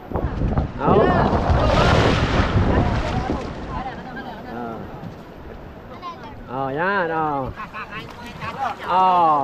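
A boat pushes through choppy water, waves slapping and wind buffeting the microphone, while people talk over the rumble.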